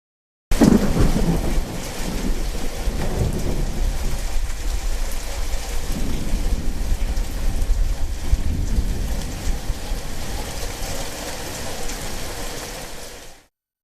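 Heavy rain during a monsoon downpour in Karnataka, a dense, steady roar of falling water with low rumbling that may be thunder, loud and continuous throughout with no talking.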